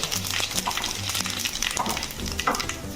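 Panch phoron whole spices dropped into hot oil in a pan for an Odia cabbage curry, crackling and sizzling steadily up close, with a few metallic clinks and spoon scrapes through a dense, even hiss, no talking.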